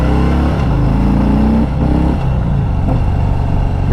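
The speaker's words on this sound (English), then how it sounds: "The bike wanted to hang on a second. Did not want to let second gear go." A 2021 Harley-Davidson Heritage Softail's engine roars loud and close, a steady low rumble with a brief dip and lurch as it hangs on a missed shift out of second gear, then carries on revving.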